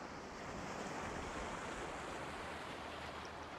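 Sea surf and wind blend into a constant broad roar of waves, steady and full throughout with no distinct breaks, and no one speaking.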